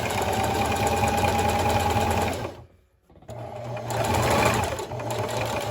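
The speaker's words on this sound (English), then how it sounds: "we're just going to zigzag it right onto the fabric" A sewing machine runs a steady zigzag stitch onto fabric for an emergency medical face mask, loud and close, with a brief pause before stitching resumes.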